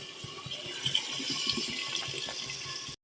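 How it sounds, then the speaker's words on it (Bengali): Water pours steadily into a cooking pot on the stove, a continuous bright splashing rush lasting the whole stretch at close range, with no talking over it. "এবার জল দিয়ে দেবো"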